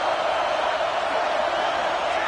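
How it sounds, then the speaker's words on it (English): A dense, steady roar from a stadium crowd fills a college football video game as the Longhorns play, a continuous wash of massed voices with no single shouts standing out. "Listen to the crowd energy here in the early going."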